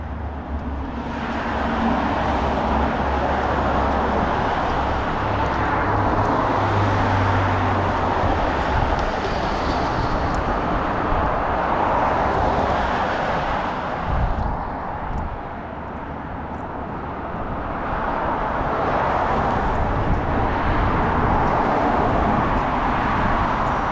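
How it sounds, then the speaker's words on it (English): Steady, loud street traffic roars continuously for the whole stretch, with passing vehicles swelling and fading in a dense wash of road noise and a brief lull midway. "It's noisy. A lot of traffic."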